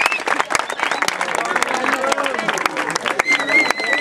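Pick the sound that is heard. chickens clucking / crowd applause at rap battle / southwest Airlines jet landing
crowd applause at rap battle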